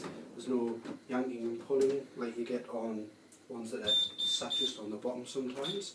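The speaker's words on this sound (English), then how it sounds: "so that was the alarm going off" A Fisher & Paykel Designer ActiveSmart E522BRXFD4RH 70/30 fridge's door alarm gives a few short, high beeps, faint under a man's steady, close talking.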